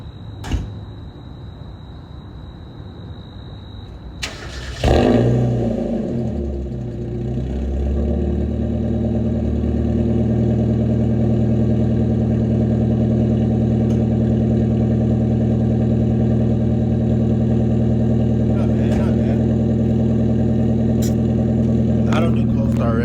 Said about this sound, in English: Y'all gotta hear how this exhaust sounds before we change this muffler, bro.